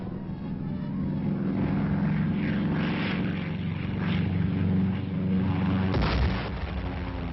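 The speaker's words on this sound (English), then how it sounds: "Their offensive was supported by heavy aerial bombardment." Propeller warplanes drone steadily overhead during a heavy aerial bombardment in the Korean War, a dense and continuous roar with a dull boom near the end.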